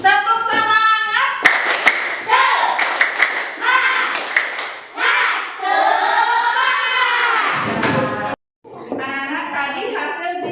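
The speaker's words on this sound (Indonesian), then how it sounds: "Lagi sekali. Tepuk semangat." Schoolchildren repeat a rhythmic classroom spirit clap, bursts of patterned clapping alongside loud group chanting, close in a classroom, with a brief silent gap near the end.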